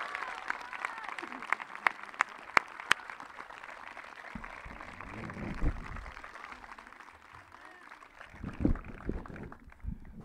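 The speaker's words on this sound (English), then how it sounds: "Please give a round of applause for all our senior award recipients" Scattered applause at a high school senior awards night, a few sharp claps up front with a softer crowd behind and some murmuring voices.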